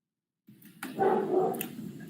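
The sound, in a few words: dog barking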